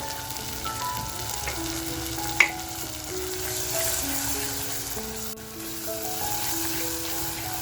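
Mutton masala sizzles steadily in oil in a pan, a continuous close frying hiss with a sharp clink partway through and stirring noises, without any talking.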